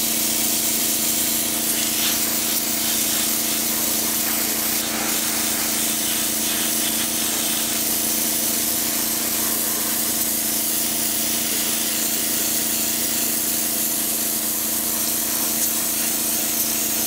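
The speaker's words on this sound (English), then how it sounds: "I'm just going to go ahead and start spraying this until I get the entire side of the car covered" Continuous hissing spray from an aerosol can painting the side of a boxcar, steady and close, with a faint mechanical hum beneath it and no pauses.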